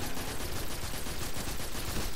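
Automatic weapon fire in the Destiny 2 video game, a dense sustained burst of rapid shots with no pauses.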